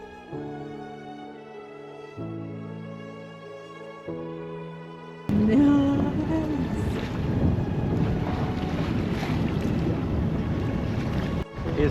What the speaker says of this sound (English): Oh my god, there's a sail up and we're sailing.